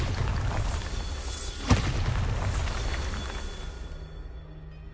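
Bombarda explosion spell in Hogwarts Legacy, a sharp crack that bursts out of a steady low rumble, then a long roaring tail that fades slowly away.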